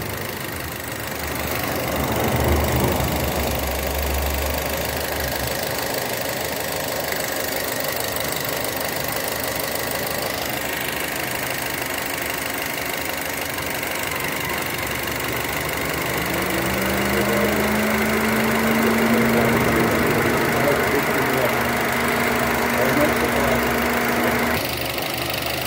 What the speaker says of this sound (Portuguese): ver se vocês conseguem pegar o motor um pouquinho assim, ó, dando uma tremidinha